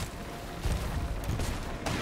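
A ship cannon fires in an online pirate game, with heavy booming shots in quick succession over dense, continuous battle noise.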